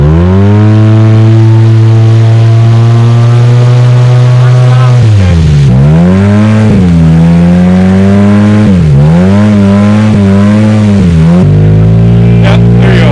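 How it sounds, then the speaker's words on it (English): An off-road vehicle's engine working hard while winching up sand dunes in western Montana, a loud, sustained drone that holds steady and then rises and falls in repeated surges of revving, very close. "as long as you're winching and gassing it, it's moving forward"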